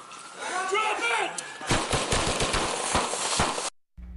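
Police gunshots during a fatal shooting on Barrington Street: a rapid burst of sharp, loud shots fired in quick succession right after shouting, then an abrupt cutoff.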